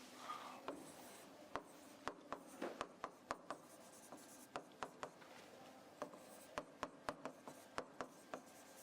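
Quiet, scratchy strokes of writing on a board during a chemistry lecture, in short irregular taps and scrapes, faint and close, with no voice.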